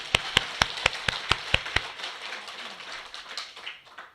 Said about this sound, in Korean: 박수 좀 합시다.